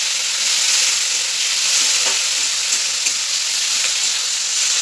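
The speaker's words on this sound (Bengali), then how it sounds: "এখন দেব জিরা, এখন দেব পেঁয়াজ, কাঁচা লঙ্কা আর রসুন, জল আছে, এগুলোকে ভালো করে ভেজে নিতে হবে" Cumin, onion, green chilli and garlic fry in hot oil with a steady, loud, close sizzle that stays even throughout, with faint stirring scrapes underneath.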